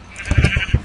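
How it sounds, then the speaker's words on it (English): A sheep bleats in Minecraft with a few short, wavering calls packed into under a second, loud and close, and nothing else competes with it. "I got a sheep."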